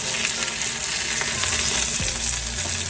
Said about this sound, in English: You just want to cook them about 4 to 5 minutes on each side in the skillet.